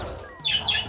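Pet birds chirping indoors, two short bright bursts of high tweets over a steady low room hum, fairly close and clear with no talking.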